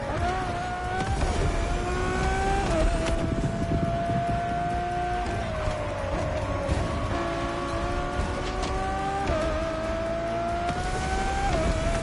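High-revving Ferrari road-legal hypercar racing in The Crew Motorfest video game in Hawaii, its engine note climbing and dropping through repeated gear shifts, loud and continuous for twelve seconds.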